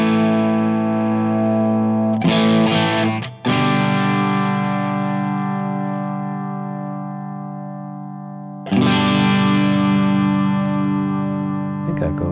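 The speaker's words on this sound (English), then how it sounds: "I'll dial in a model and I'll dial in the sound in the Plexi Bright" An electric guitar played through the Plexi Bright amp model on a Line6 HX Stomp, with crunchy distorted chords struck and left to ring, three loud attacks with long sustains in between.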